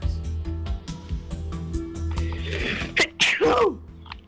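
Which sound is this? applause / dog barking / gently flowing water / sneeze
sneeze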